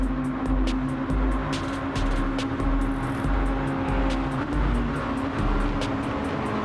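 Mazda race cars in a racing video game roar past in a continuous engine drone that swells and dips in rhythmic pulses as the pack laps together.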